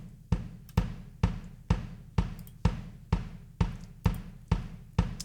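A DW kick drum, thickened with Saturn saturation for added mid-range presence, pounds out about eleven evenly spaced hits alone, each punchy and close with a short decaying tail.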